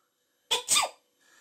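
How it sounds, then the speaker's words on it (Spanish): A sneeze used as a notification ringtone for Android phones: one sharp sneeze burst with a quick inhale and explosive release, loud and close, followed by a faint tail. "Vamos a aplicar en estornudo."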